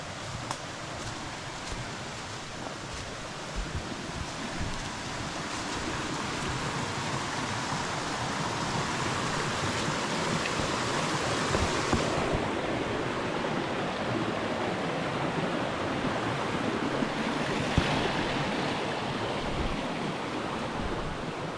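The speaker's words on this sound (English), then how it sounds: "There's another little creek crossing right before we get to another campsite." A little creek at a trail crossing on the Gregory Ridge Trail rushes in a steady, close, broad wash of flowing water, with no voices over it.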